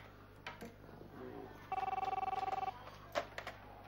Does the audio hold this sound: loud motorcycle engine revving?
no